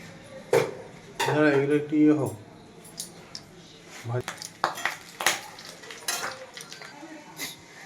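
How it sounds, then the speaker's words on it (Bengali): A spoon stirring cinnamon, cardamom and bay leaves in ghee in a cooking pot, giving metallic scrapes and clinks against the pot with someone talking over parts of it. "তো দিয়ে আমি আবারও নাড়াচাড়া করছি"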